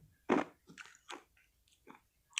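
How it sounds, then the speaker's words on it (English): Ice being crunched between the teeth in a quiet room: five or six sharp, separate bites spaced irregularly, close and distinct. "So I try to crunch on the ice because I don't have my fluids for today."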